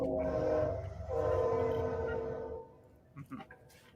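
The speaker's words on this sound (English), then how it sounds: "Oh, the train's coming back with a vengeance." A train passes near a house, its loud rumble and horn-like tones swelling for about two and a half seconds before fading into lower scattered noise.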